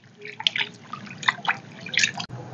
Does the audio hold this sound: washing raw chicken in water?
yes